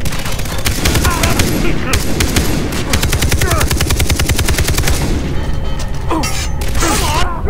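Dense automatic gunfire rattles loudly and continuously in Far Cry 3, with rapid bursts layered over booms and mechanical clatter, while a voice shouts briefly near the end.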